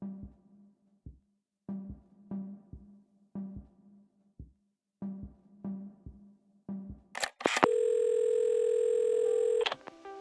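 Telephone in the game Assemble with Care: several short keypad-like clicks and tones in a quiet room, then a sudden clack of the receiver and a steady, loud dial tone that holds for about two seconds before cutting off.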